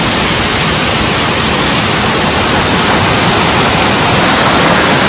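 Curug Indrakila waterfall pours in a constant, dense broadband roar, loud and close, steady throughout with no other sounds breaking through.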